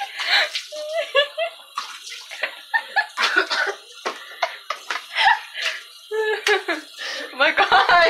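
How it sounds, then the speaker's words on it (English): Water splashes and sloshes during hair washing at a tub or sink, in bursts mixed with close talking and some laughter. "Oh my god, I'm getting water everywhere."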